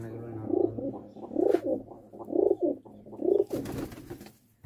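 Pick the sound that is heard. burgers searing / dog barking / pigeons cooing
pigeons cooing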